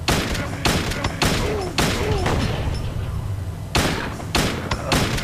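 Gunshots in the video game Silent Hill 2, a series of heavy booming shots at irregular intervals, loud and close, with a voice talking over them.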